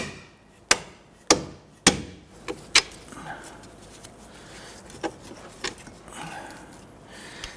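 Sharp metallic clanks and taps ring out while strut bolts are worked loose on the front suspension of a 1992-1996 Toyota Camry, loud and close early on, then fading to softer scattered knocks.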